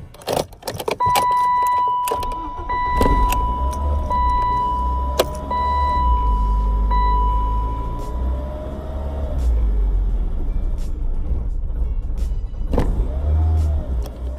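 A BMW E36 with an M42 engine, running on Ford injectors, is cranked by the starter in repeated attempts heard up close from inside the car, with a long steady warning chime and clicks between the cranking bursts.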